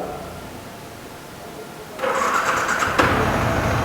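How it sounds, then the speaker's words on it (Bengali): A Yamaha R15 V3 sport motorbike starts up: quiet background, then about halfway the engine catches with a sudden jump to a steady running note, a brief blip just after, close by and without talk. "বাইকটা কিন্তু স্টার্ট করা হলো"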